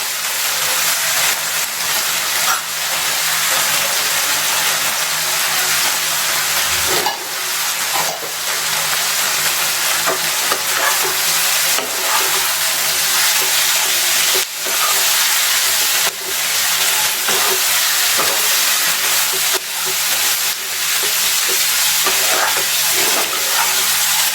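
Two cups of cut cabbage stir-fried for mushroom fried rice, a loud, continuous hiss and sizzle with repeated scraping and tossing strokes of the spatula close up, no talking.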